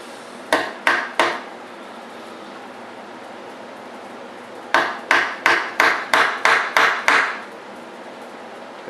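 Hammer blows drive a wooden dowel through a woodworking breadboard end: three sharp close strikes, a pause, then a quicker run of about seven loud, evenly spaced knocks.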